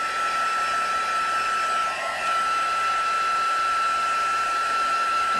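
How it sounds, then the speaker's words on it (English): A heat gun blows a steady, close, loud whirring roar as it dries damp ink on a card, running continuously with a faint high whine and no talk. "I'm just going to run the heat gun over that a bit"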